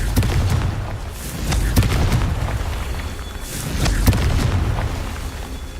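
Booming fire-spell blasts in the Hogwarts Legacy video game, several heavy explosive thuds with crackling bursts spaced a second or two apart over a continuous rumbling background.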